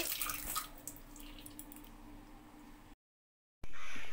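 Fresh fish being rinsed in a basin of water, a steady close splashing and trickling with drips that cuts to silence, then a brief loud burst of water at the end.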